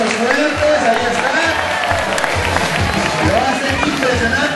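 A crowd claps steadily at a seal show, dense applause mixed with cheering and murmuring voices, loud and sustained throughout with a speaker talking over it.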